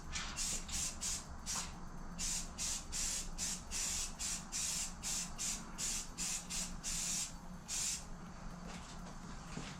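A paint spray gun hisses in quick repeated bursts over a car engine bay, a steady rhythm of short sprays with brief gaps between, close up and fairly loud.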